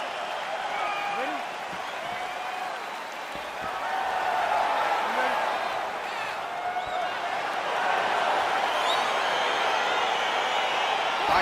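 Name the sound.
crowd cheering in UFC 4 video game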